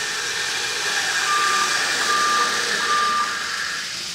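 A fire sprinkler wet system's water flow alarm sounds a steady electronic tone over the loud, continuous rushing hiss of flowing water during an alarm check valve test, holding for several seconds before fading slightly.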